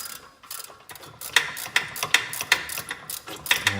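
Ratchet wrench tightening 18mm bolts on the rear brake caliper of a Mercedes S 550 (W221), a close series of sharp clicking bursts in uneven rhythm, with no talking.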